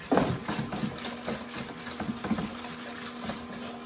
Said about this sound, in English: And I'll rinse the mats out, just like that.